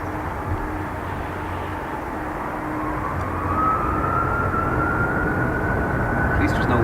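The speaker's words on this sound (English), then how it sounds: "So UA 981 is our 757 about to depart to Chicago." A United Boeing 757 jet departing Dublin Airport for Chicago, its engine roar a loud, steady rumble that swells and rises in pitch as it spools up for takeoff, with people talking at the start.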